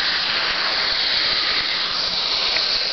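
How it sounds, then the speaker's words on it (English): A steady, continuous hiss of a spray bottle misting water onto vermiculite in a python egg incubator, close and unbroken for the whole stretch, with no voices. "So I'm just spraying the vermiculite now"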